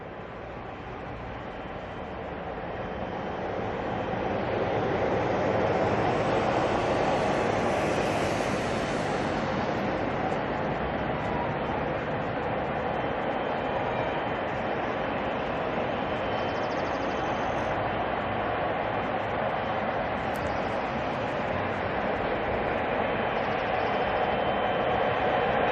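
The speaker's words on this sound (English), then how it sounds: "there's a 777 of Qatar" A Qatar Airways Boeing 777 jet at Auckland Airport at night gives a broad, steady roar that swells after a few seconds and holds, distant and faint, with no voices.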